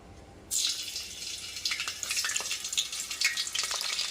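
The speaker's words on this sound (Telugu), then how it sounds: "ఆయిల్ వేడెక్కిన తర్వాత పచ్చిమిర్చి వేసుకుందాం." Green chillies hit hot oil with a sudden loud sizzle that bursts in after a brief quiet start, then a steady crackling, spitting fry close by, with no talking.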